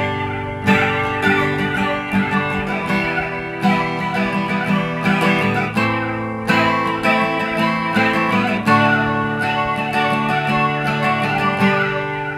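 Electric guitar run through the flanger of a Behringer digital multi-effects unit, chords and notes ringing with a sweeping, whooshing tone, steady and close with no talking.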